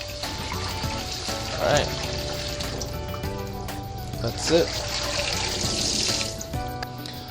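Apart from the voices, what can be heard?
cold tap water running over cooked pasta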